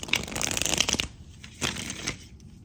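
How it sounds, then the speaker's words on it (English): Tarot cards are shuffled by hand in rapid riffling bursts, a dense crisp flutter for about a second, then a pause and a couple of shorter, softer shuffles, close and clear with no talking. "Let me give it one more good shuffle."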